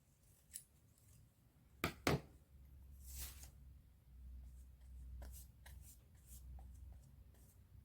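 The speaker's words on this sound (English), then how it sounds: "more pieces to cut" Scissors snip through paper pieces for a collage: a single snip, then a quick double cut, followed by soft paper rustling and shuffling, all quiet and close with no talking.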